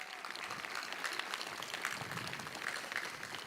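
A high school graduation audience applauds in a steady, even wash of clapping, heard from a distance and fairly faint, sustained throughout without speech.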